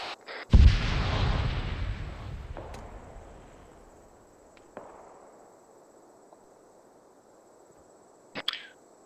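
A grenade detonates in the military shooter game ArmA 3: one loud, sharp blast rolls into a long fading rumble, followed by a few faint distant pops and a brief crackle near the end.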